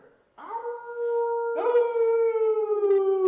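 Wolf howling during a BattleTech Alpha Strike game session: a single long, steady howl that rises and then holds, with a second howl joining partway through, loud and close with no talking.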